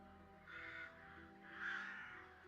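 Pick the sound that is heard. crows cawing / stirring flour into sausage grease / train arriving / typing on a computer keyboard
crows cawing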